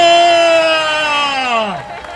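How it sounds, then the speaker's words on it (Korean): A crowd at a youth conference in front of the National Assembly in Seoul shouts a long, loud, sustained "wah" together on cue, the voices blending into one rising cheer before it trails off near the end. "제가 하나 둘 셋 하면 와 하고 외쳐주세요."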